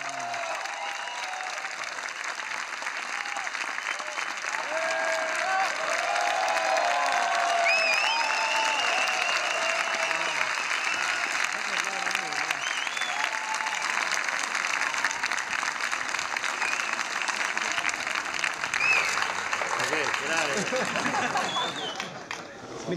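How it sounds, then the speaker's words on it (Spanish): A large audience at a cult horror film event claps and cheers loudly and continuously, a dense wash of applause with shouts and whoops rising and falling on top. "un fuerte aplauso, pero con aquellos de ganas"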